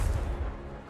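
Confringo spell blast in Hogwarts Legacy: a single short, booming burst with a heavy low thump that quickly fades.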